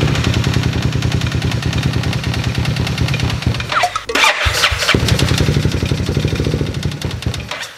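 A Honda Wave 100 motorcycle engine cranks and catches, then settles into a steady, loud idle that carries on close by with no voices.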